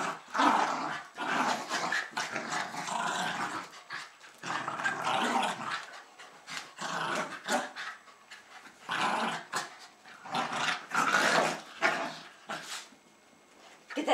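Two young Jack Russell terriers play tug with a sock, letting out bursts of rough, close growling with short pauses between them, loud and lively, without talk.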